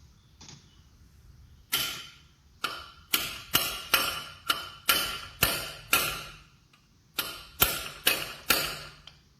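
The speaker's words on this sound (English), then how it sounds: "Going to give it a couple extra taps to knock it over." Hammer tapping a part into place on an AGT Industrial 12EX-HM hydraulic breaker for a mini excavator: sharp metallic strikes, one lone tap, then a steady run of about ten evenly spaced blows, a pause, and four more, close and clear.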